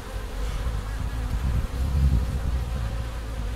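Honey bees at an organic Bioland beehive make a dense, continuous buzzing hum, close and steady, that swells slightly in the middle.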